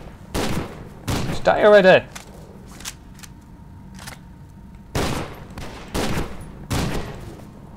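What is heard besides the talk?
shotgun fire in video game F.E.A.R. 2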